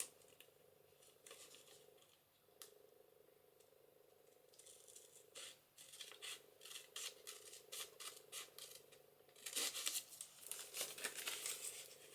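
Scissors cut and trim paper for a junk journal, giving soft snipping, crinkling and rustling close by and faintly, in irregular bursts that grow busier toward the end.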